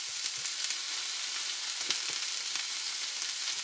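Loud, steady sizzle of high-heat frying in garlic, onion and herb infused cottonseed oil, a dense hiss with small pops and crackles, close and continuous with no talking.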